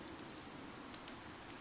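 Rain falls in Fire Emblem Three Houses, a soft, steady hiss with faint scattered drop ticks, heard alone and at low level.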